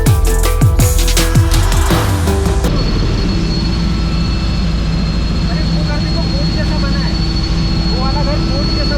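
Inside a flying helicopter, a loud, steady engine and rotor drone runs throughout, heard over the water. For the first few seconds it is mixed with other tonal noise, and people talk over it.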